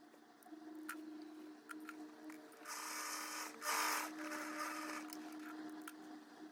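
A sewing machine stitching the darts of a basic homemade skirt, short faint ticks and hums first, then a couple of louder whirring bursts of stitching in the middle before tapering to quiet clicks, close by with no talking.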